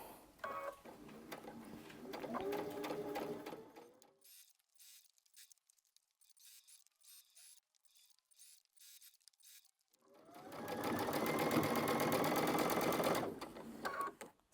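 A sewing machine stitches two rows of a puff quilt together in two long, steady runs of rapid mechanical whirring, separated by a quiet pause of several seconds while the fabric is handled.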